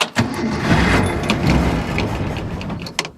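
A Ford Falcon engine cranks, catches and runs rough and loud close by, with a sharp clunk near the end.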